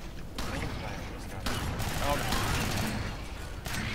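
Gunfire in the Alien Swarm Reactive Drop video game, a steady rattle of rapid shots with a few louder bursts, continuous and fairly close amid the noisy clatter of a firefight.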